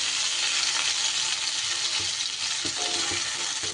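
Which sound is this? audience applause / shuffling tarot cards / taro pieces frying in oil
taro pieces frying in oil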